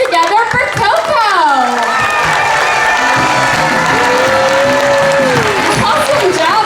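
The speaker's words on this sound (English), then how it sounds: "Please put your hands together for Coco!" Crowd at the Hersheypark Aquatheatre applauding and cheering for Coco the harbor seal, clapping spread under excited voices and children shouting, with a sustained whistle-like tone rising and falling through the middle.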